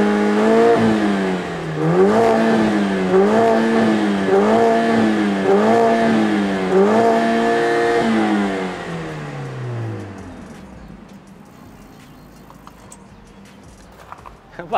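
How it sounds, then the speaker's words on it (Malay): A Mercedes-AMG A45S 2.0-litre four-cylinder on its stock exhaust revs repeatedly, about five rising-and-falling pulses in a row, loud and close, then the engine note drops away into quieter idle and near silence. "Nampak? Itu bunyi exhaust standard."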